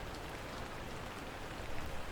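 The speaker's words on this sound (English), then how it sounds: "rain hammering on the roof now, heavier than before" Steady, dense rain drumming on a truck roof, a constant hiss and patter with occasional heavier gusts, faint and even throughout with no voices.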